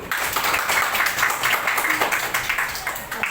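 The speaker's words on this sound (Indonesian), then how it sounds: "Oke, tepuk tangan untuk dia dulu." Steady, dense clapping from a classroom of students during a teaching practice lesson, filling the whole stretch at an even level with no pauses.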